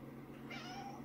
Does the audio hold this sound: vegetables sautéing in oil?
no